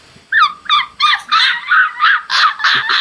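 A white dog barks about eight times in a quick, even rhythm. The sharp, high yapping barks are loud and close, with no voices over them.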